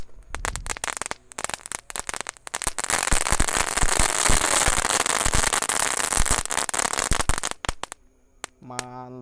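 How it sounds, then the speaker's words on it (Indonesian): A colourful Dino Pretek egg firecracker going off at night, a dense burst of crackling pops building into a sustained loud sizzling crackle for several seconds, then a few scattered snaps as it dies out. "selanjutnya kita nyalakan telur Dino Pretek"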